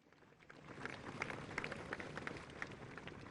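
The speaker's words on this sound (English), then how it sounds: "Please give them a huge round of applause again" A crowd at a ceremonial parade of the President's Bodyguard gives faint, distant applause for a mounted riders' display, starting quietly and swelling into a soft, scattered clatter of clapping.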